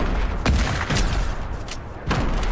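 Hunting rifle shots ring out in Fortnite, three booming blasts spaced unevenly over steady game noise, close and loud.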